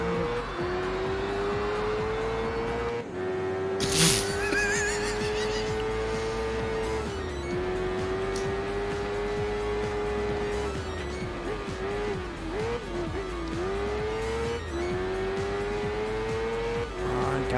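Cars racing in The Grand Tour video game, with a continuous engine drone that rises and falls through gear changes, plus a brief burst of tire noise, loud and close throughout.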